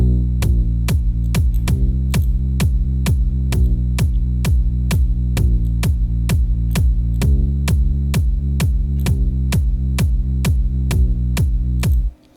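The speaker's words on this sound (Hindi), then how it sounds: "जब किक प्ले हो रहा है उस टाइम इसकी वॉल्यूम कम हो जा रही है किक के सिग्नल की हेल्प से" A sidechain-compressed synth pad in FL Studio ducks in volume on every kick hit, giving a loud steady pumping rhythm of thumping kicks with the sustained tone swelling back between them, ending abruptly.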